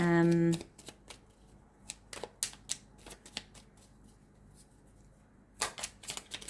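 Tarot cards shuffled in a riffle at the start, then a run of sharp, separate card slaps and flicks as cards are laid down, close and fairly clear, with a short flurry near the end.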